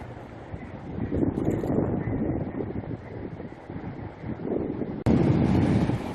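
Strong gusting wind roars and buffets the microphone continuously at Niagara Falls on a gray day, with a sudden louder blast near the end.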